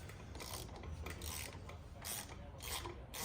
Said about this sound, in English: you got my Carlisle ratchet over there